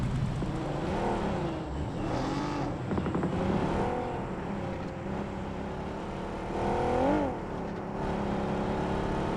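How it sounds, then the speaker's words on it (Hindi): Engine of a car driven in the mobile battle-royale game PUBG Mobile, a steady droning motor with rising and falling revs, near and continuous with no talk. "यहाँ पर मैं और मेरा साथी गाड़ी में बैठकर जोन की तरफ जाने की कोशिश कर रहे होते हैं।"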